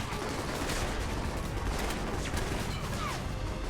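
Sustained turret gunfire in the Alpha Protocol video game, a dense continuous rattle of rapid shots holding at steady loudness throughout, with no talking over it.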